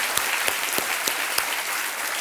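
Studio audience on the KBC game show set applauding a departing contestant, a loud, full burst of dense clapping with sharper individual claps punctuating it at a steady pace.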